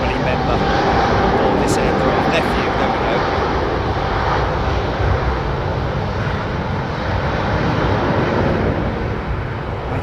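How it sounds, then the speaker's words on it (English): An Airbus A330neo touching down at London Heathrow, heard as a loud, steady roar of engines and rushing air that holds for the whole stretch, with a voice talking over it. "Touchdown! A330 Neo."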